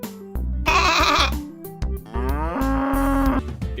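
Sheep bleat in two drawn-out, wavering calls, loud and close, one after another with a short gap between them and no voices.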